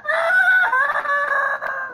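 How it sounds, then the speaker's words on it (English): A loud, close rooster crow, one sustained piercing call lasting nearly two seconds, heard alone. "Isn't that just a rooster?"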